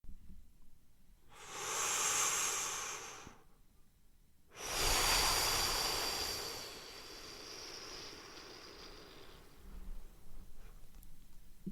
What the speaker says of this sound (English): the name ocean comes from the sound that's made with the breathing